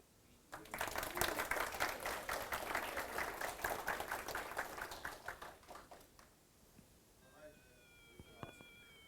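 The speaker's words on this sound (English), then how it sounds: "Please clap." Audience applause at a KansasFest 2019 retro computing session, a quiet room of clapping that swells quickly, holds for several seconds and tapers off, with faint electronic game tones and a voice afterward.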